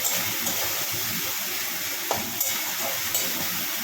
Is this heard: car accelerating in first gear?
no